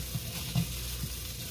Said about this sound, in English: so you can hear that sizzle there